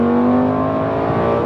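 A Lamborghini V10 engine revs hard and close, a loud sustained roar with a steady high whine held throughout a short burst.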